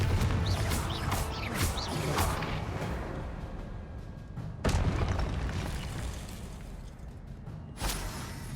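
Confringo blasting-spell explosions in the Hogwarts Legacy video game: booming blasts with crackling bursts over a dense, continuous game soundscape, with a sharp hit near the middle and another toward the end.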